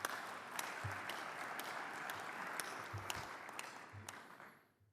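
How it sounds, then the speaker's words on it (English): Applause from an audience in a conference hall at a chefs' congress fills the room as a dense, even clatter of many hands, fairly distant and soft, fading out toward the end. "Thank you very much for the applause."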